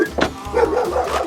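A dog on a small sheep farm in rural Lithuania barks a few times in quick succession, close and fairly loud, with short yips between the barks.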